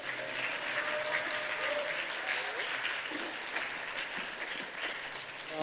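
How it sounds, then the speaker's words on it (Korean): Church congregation applause at a Korean Full Gospel service: a dense, continuous wash of many hands clapping, steady and full, with some voices and cheering mixed in underneath. "하나님께 영광의 박수를 올려드립니다."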